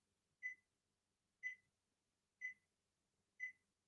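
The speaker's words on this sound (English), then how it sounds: "And what is that beeping?" Four evenly spaced, faint electronic beeps about a second apart sound in a quiet room, with nothing else heard.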